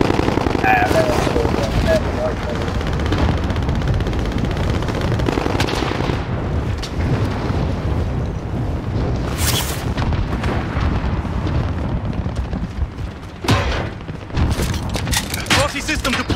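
Gunfire and explosions from the video game Call of Duty Warzone: bursts of shots and booms crackle through a busy in-game soundscape, with voices talking over parts of it.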